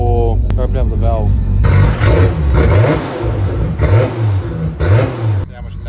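A Toyota Supra's engine revving hard with the exhaust valve opened, heard up close in several loud, repeated bursts that climb and drop, preceded by a brief quieter rev.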